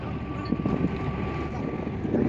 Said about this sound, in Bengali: আরেকটা ভেসেল আসছে